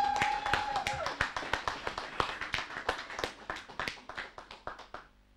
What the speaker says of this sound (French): Est-ce que nous pouvons acclamer pour la sœur?